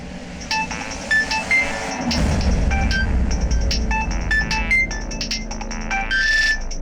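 A phone ringtone plays repeated bright electronic tones in a quick melodic pattern, moderately loud, over a low rumbling background.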